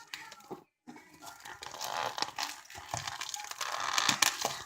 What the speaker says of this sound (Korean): 일단 먹으려면 먼저 개봉해야겠죠? 개봉 먼저 해보도록 하겠습니다.